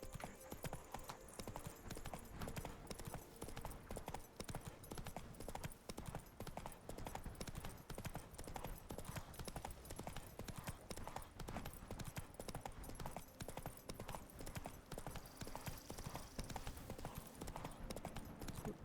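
A horse gallops in The Witcher 3: Blood and Wine, with quick steady clip-clop hoofbeats running throughout at a low, even level.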